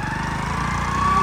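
A motorbike engine idles and revs steadily up close, a continuous throaty drone with a rising whine near the end, no voices over it.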